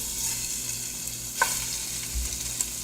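Lamb sears in a very hot pan with a steady, close sizzling hiss. A single soft scrape of stirring breaks in partway through, and no one speaks.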